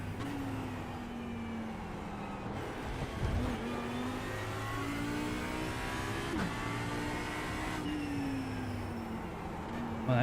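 Ford Mustang GT3 race car in the iRacing sim at Fuji, its engine note climbing through gears with several upshifts and brief dips, steady and close, no voices.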